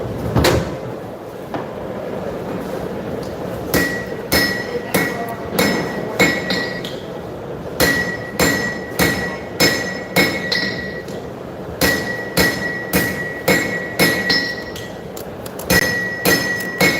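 Steel hammer blows ring out on a knife blank during a live forging demonstration at a knife show, coming in quick rhythmic bursts of several strikes with short pauses, bright metallic clinks from the anvil.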